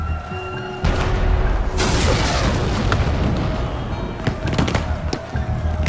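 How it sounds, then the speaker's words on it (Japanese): Cannons boom in the video game Shadow Tactics: Blades of the Shogun during a siege mission, with heavy, loud blasts rolling over ongoing battle noise and scattered sharper cracks. "大砲に注意しろ。"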